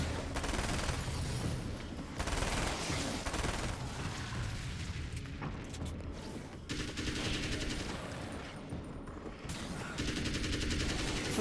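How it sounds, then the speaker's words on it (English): Assault rifle gunfire in the video game Alan Wake's American Nightmare: loud, dense automatic bursts run almost without a break, each volley rattling hard and close with only brief gaps between them. "This assault rifle feels like it has like no weight to its shots."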